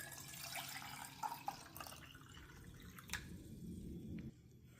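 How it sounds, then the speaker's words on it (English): Water poured into the base of a Bialetti stovetop espresso maker, a soft continuous trickle with a few brief drips and splashes, faint and close, with no talking. "Pour the water."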